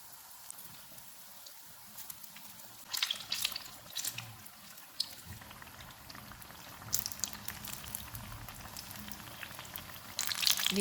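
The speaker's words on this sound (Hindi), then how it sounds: "मिर्चें फ्राई हो गई हैं" Green chillies for mirch pakora fry in hot oil over a low-to-medium flame, giving a steady close sizzle with bursts of crackling and popping bubbles.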